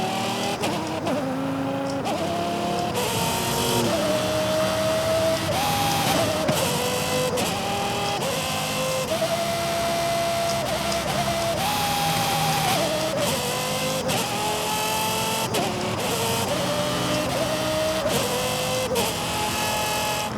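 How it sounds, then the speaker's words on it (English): A car engine in Forza Horizon 5 revs up and down through a run of held, stepped pitches that trace the Star Spangled Banner melody. The tone is loud, steady and continuous, with no voices. "You can actually play your own songs with a car's engine."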